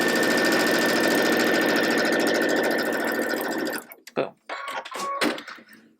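A sewing machine stitches a quilt flower block, a loud close rapid chatter that runs steadily and then stops, followed by brief handling noises and a short voice.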